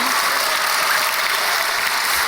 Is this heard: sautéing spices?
no